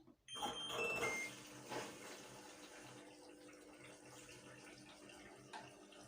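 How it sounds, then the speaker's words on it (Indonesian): Water running into a Sharp ES-H758T 7.5 kg washing machine at the start of a gentle wash, a steady close flow of water after a few clicks and beeps. "Nah, dia otomatis ngalir gitu bun airnya."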